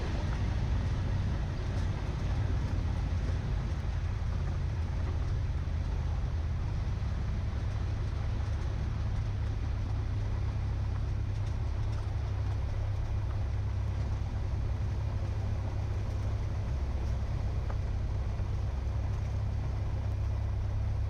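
Small training airplane engine idling after landing, with a steady low drone heard close from inside the cabin, continuous and unchanging, with no talking.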